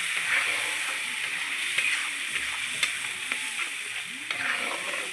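Spice masala with turmeric, chilli powder and salt fries alongside taro and potato in a pan, a loud continuous sizzle with stirring scrapes and soft clicks, no voices over it.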